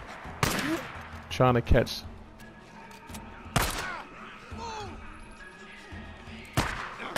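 Bursts of gunfire from the PlayStation 4 Pro video game Days Gone sound in short volleys during a cave ambush. Sharp shots come in quick clusters, while a player talks between them.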